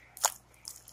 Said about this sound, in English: Crunchy slime. So, see, as you can see, it's like really crunchy.